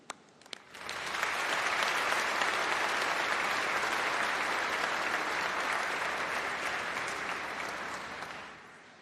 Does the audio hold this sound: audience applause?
yes